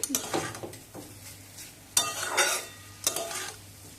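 Papaya ghonto with fritters (bora) being stirred in a pan as the added water dries off, with close, repeated scraping strokes of a utensil against the pan over a steady sizzle and no voices.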